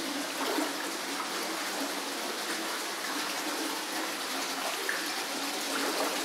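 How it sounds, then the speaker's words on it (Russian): Water flowing out inside an underground collector channelling a buried river, a steady broadband rush and trickle that fills the space, continuous and fairly close with no voices. "Такая вот вода там, видимо, вытекает."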